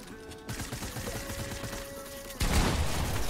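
Gunfire rings out in the Fortnite Battle Royale game, with rapid shots under a steady game hum before a louder, denser burst near the end.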